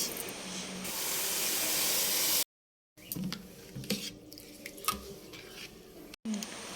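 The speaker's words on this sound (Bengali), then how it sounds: "ডালটা ভালো করে ভাজা ভাজা হয়ে গেছে ঢেলে ভালো করে ধুয়ে নেব" Water pours with a steady hissing rush over roasted moong dal and gobindobhog rice, then comes wet sloshing and rubbing as the grains are rinsed by hand in a bowl.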